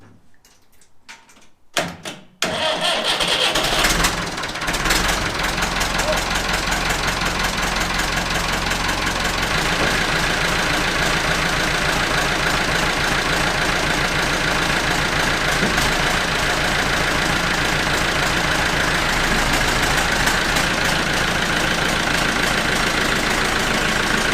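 A Massey Ferguson 1200 tractor cold-started with no heat: a few clunks and a brief crank, then the engine catches and settles into a loud, steady, rough diesel idle that runs on with no talking.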